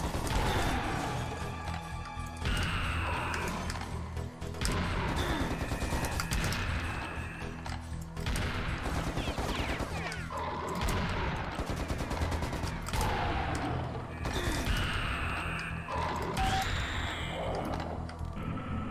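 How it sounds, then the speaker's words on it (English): Sustained machine-gun fire from a giant scorpion enemy in the shooter game Serious Sam, a dense, loud rattle of rapid shots mixed with crashing impacts throughout, with no talking. "Fucking giant scorpion thing with a machine gun."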